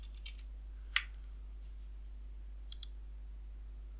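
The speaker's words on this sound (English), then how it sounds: "we now have to type in our password" A few sparse, faint key clicks on a computer keyboard as a password is typed, with one sharper tap standing out over a steady low electrical hum.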